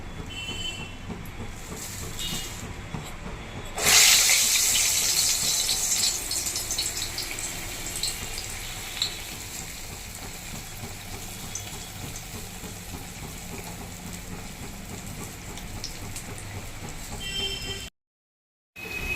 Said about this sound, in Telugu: చూడండి, వడలు వేస్తున్నా పిండి.